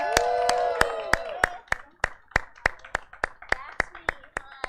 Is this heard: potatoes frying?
no